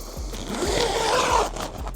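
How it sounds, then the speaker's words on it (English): A zipper on an inflatable tent's tarp is drawn in one continuous scratchy pull lasting most of two seconds, close and fairly loud, with faint low thumps beneath and no speech. "let me show you the zipper first"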